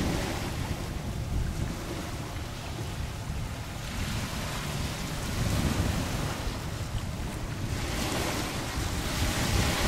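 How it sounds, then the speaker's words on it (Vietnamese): Large sea waves crash and roar continuously against the shore along with heavy wind buffeting the microphone, a loud, dense wash of surf with no pauses. "bây giờ sóng khá là lớn"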